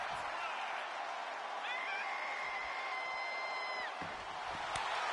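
Arena crowd in the WWE 2K25 wrestling video game cheering and roaring as a steady, fairly faint wash of noise, with a few thuds and a whistle-like tone rising above it.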